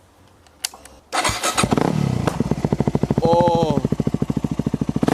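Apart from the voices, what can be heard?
motorbike engine revving without exhaust baffle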